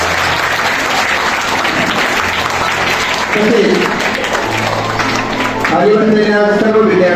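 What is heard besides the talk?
audience applause for students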